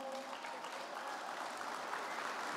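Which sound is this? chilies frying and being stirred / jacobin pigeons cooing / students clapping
students clapping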